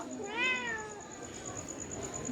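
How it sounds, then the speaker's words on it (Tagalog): A cat gives a single clear, fairly close meow with a rising then falling pitch, followed by quiet room background and faint human sounds. "Kaninong pusa to?"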